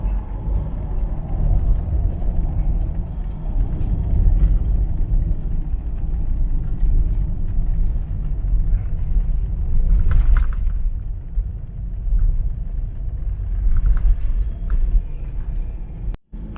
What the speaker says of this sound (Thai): ผมขับรถก่อนแล้ว